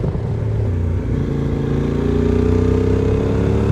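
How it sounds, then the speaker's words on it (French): A loaded touring motorcycle carrying luggage and a rider climbs a clean mountain pass road, its mid-pitched engine droning steadily and rising slightly in pitch as it pulls uphill, loud and close throughout with no voices. "la moto a aucun souci à grimper ce col"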